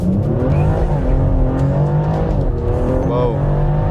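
Chip-tuned BMW with a ZF automatic transmission accelerating, its engine note climbing steadily and dipping briefly at crisp gear shifts, loud and close from inside the cabin with a voice talking over it.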